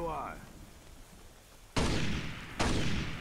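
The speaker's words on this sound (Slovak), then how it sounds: "Čo, prečo po mne strieľaš?" Gunfire in the Lost: Via Domus video game cracks out in two loud, sharp bursts about a second apart, each with a short rumbling tail.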